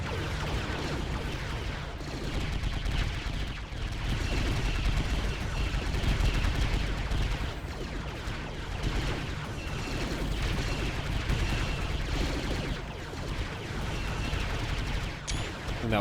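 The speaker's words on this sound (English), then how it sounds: "And there's going to be a nice exchange of fire." A battle exchange of fire in the Star Wars: Galaxy at War mod, with an AT-AT trench assault on Jakku: dense, continuous gunfire and rapid blaster bursts over rumbling booms, loud and unbroken, with faint voices mixed in.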